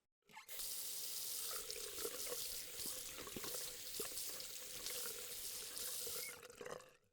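Water runs steadily from a salon shampoo basin tap for about six seconds, a close, even hiss and splash that starts and stops abruptly, heard alone without talk.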